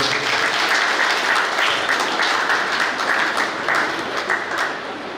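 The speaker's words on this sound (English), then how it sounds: "Let's give a clap to Father Gabriel." An audience at a Goa Capuchin voice competition applauds Father Gabriel, a Capuchin priest, with steady, dense clapping that fills the room and eases off slightly near the end.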